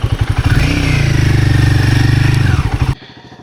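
A Royal Enfield Guerrilla 450 motorcycle pulls away to begin a solo highway ride, its engine loud and close with a steady rising drone and thumping pulses, cutting off abruptly near the end.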